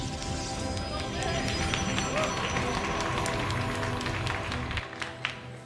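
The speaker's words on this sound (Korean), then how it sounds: "오늘 현장에 오신 분들의 환성, 환호 소리가 진짜 오늘은 좀 더 큰 것 같습니다" A live crowd at a StarLeague StarCraft II esports match cheers and claps in a steady, dense roar with scattered sharp claps, while Korean commentators speak over it.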